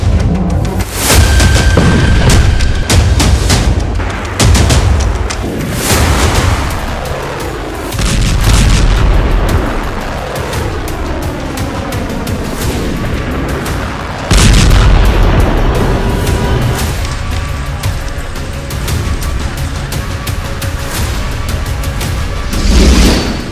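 Heavy, repeated booms from Israeli artillery fire and strikes on Lebanon roll out loud and close together, each blast trailing into rumbling echoes, with no voices.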